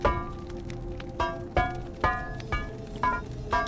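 Metallic gold items clinking as they are picked up in The Forgotten City, a game set in an ancient Roman city, sounding as a series of sharp, bright clinks at a steady irregular rhythm, close and alone without voices.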